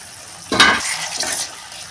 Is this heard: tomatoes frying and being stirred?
yes